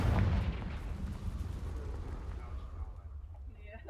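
A Confringo blasting spell explodes in The Sims 4 with a heavy, booming burst right at the start, then a rumbling tail that fades slowly over the next few seconds.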